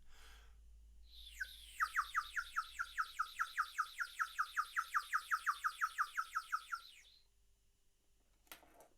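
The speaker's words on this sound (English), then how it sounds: "The birds would stop tweeting gently" A bird tweets in a long, even series of about twenty bright chirps, clear and fairly close against quiet surroundings, followed by a short faint rustle.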